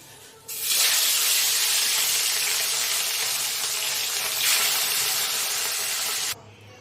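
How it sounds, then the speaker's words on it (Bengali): Rohu fish pieces, coated in salt and turmeric, go into hot oil with a sudden loud, dense sizzle that holds steady for several seconds, then cuts off abruptly. "এবার মাছগুলো আমি আস্তে আস্তে ছেড়ে দিলাম"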